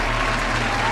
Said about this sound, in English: Can I get a round of applause, man?